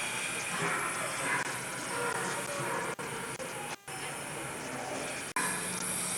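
The Union Pacific Big Boy steam locomotive hisses steadily at a display in Green Bay, Wisconsin, a broad continuous rush of steam with a few brief dropouts and faint crowd noise around it.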